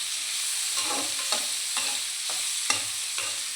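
Mushrooms frying in a pan give a steady close sizzle, punctuated by several sharp spatula scrapes and stirring clacks at irregular intervals, with no talking.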